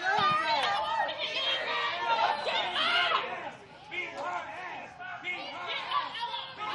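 A wrestling event crowd chatters and murmurs continuously, loud and close, with voices rising and dipping in a constant dense babble and no single voice standing out.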